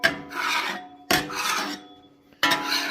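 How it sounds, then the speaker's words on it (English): A metal scraper rasps across the surface of a 21-inch VEVOR commercial electric countertop griddle in three close, loud strokes, each a sustained gritty scrape with short pauses between, and no talking. "first you want to kind of scrape off if there's any chunks"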